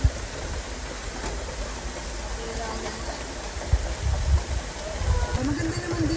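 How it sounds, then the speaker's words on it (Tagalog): Heavy rain pours down steadily in a rural island setting in Eastern Samar, a dense wash of hiss over low rumble, with a voice talking intermittently over the downpour. "Grabe yung ulan ngayon."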